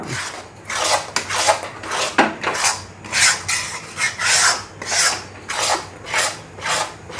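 A spoon stirs semolina and sugar syrup in a pan for suji barfi, scraping in a steady rhythm of about a dozen raspy strokes, close and fairly loud with no talk over it.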